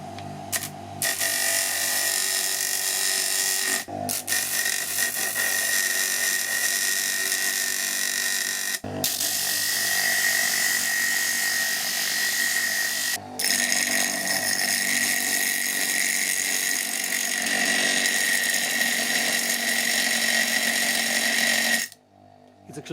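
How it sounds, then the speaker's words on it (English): Small homemade self-rotating grinder sanding down a screw head on an old vice repair, a continuous loud high-pitched whine with a few brief dips before it stops at the end. "That's the small grinder I've built with my grandfather when I was a kid."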